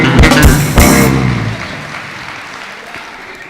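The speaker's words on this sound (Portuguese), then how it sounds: "Aplauda bem forte, querido." A church congregation claps loudly during a sermon, with a burst of strong applause at the start that gradually fades and thins out.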